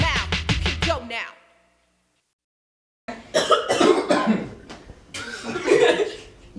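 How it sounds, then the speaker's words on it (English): A person coughs in a quick, close run of hacking bursts, then falls silent for a couple of seconds before voices and chuckling follow. "You coughing? You good?"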